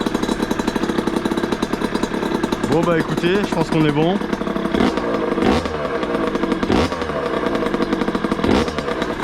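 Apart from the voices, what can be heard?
rebuilt 50cc moped engine running after first start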